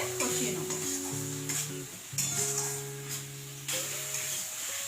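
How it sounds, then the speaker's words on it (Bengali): Tomato paste sizzles and fries with onions in a pan, a steady close hiss broken by repeated scraping and stirring strokes of a spoon against the pan. "এবার এর মধ্যে দেব টমেটো পেস্ট। টমেটোটাকেও আর একটু ভালো করে কষিয়ে নেব।"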